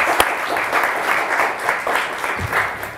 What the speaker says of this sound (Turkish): Bilmediğim şey, alkışlar niye cılız?